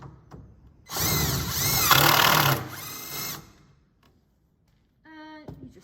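Power drill driving zinc screws into a Shannon bolt assembly unit, one loud whirring burst of about two and a half seconds with a shorter follow-up, then quiet and a brief tonal whine near the end.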